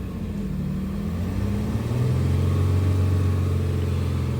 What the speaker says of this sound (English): I'm just going to start up the engine, let it idle